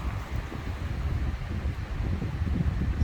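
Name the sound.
foehn storm wind gusts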